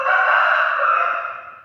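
At a temple, a rooster gives a single loud, drawn-out crow close by, holding a strained tone before fading at the end.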